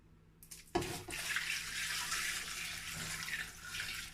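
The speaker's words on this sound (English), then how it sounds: "So I'm going to add water." Water poured into a pot of assorted meats, including cow skin and goat meat, for tomato stew: a steady, close splashing stream starts abruptly and keeps running without talk.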